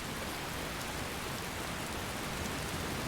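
Steady rain pours in the Wildlander modded Skyrim video game, a dense, even hiss of falling water that fills the whole stretch without a break.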